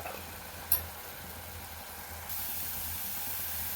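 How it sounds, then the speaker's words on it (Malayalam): Ground tomato sautéing in oil in a pan, a soft steady sizzle and hiss that grows slightly louder partway through, with one brief click near the start. "അതിൻ്റെ ആ പച്ച രുചിയൊക്കെ ഒന്ന് പോകുന്നത് വരെ നമുക്ക് വഴറ്റണം"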